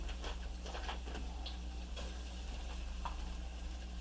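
Ham sweating in butter in a pan for old-school country green beans, giving a faint, steady low sizzle with a few soft stirring clicks, no voices.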